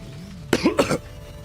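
A short burst of coughing or throat clearing, three to four quick rough pulses close to the microphone over a quiet background, lasting under half a second.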